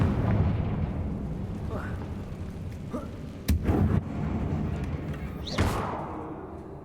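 Bombarda and Confringo spells explode in the video game Hogwarts Legacy: two sharp, loud blasts a couple of seconds apart ring out over a continuous rumbling game soundscape.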